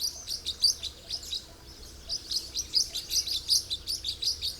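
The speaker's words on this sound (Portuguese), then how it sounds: "No alto da árvore chega alguns tuins, o menor dos pistacídeos brasileiros." Green-rumped parrotlets give rapid, high chattering chirps in bursts from treetops above a feeder in the Caatinga, fairly close and clear over a quiet background.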